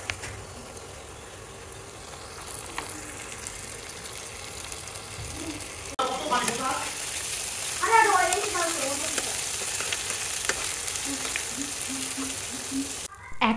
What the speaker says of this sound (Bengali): এখন আমি 1 চা চামচ আদা রসুন বাটা দিয়ে দিব, দিয়ে কিছুক্ষণ ভেজে নেব।